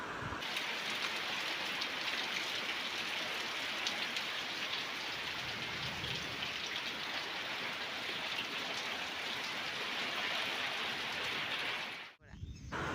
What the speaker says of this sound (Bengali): আর দেখো কি বৃষ্টি নামছে, মানে অনবরত বৃষ্টি পড়তাছে।